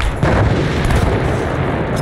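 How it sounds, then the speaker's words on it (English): A self-propelled gun fires in Arma 3 with a single heavy, booming blast. The rumble rolls on for about two seconds, loud and dense. "that sounds like an SPG"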